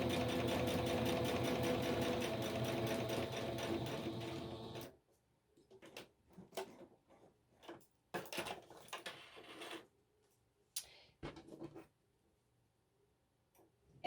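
A sewing machine stitches a fabric pocket with a dense, steady mechanical whir for about five seconds, then stops, leaving scattered taps, clicks and handling noises at close range.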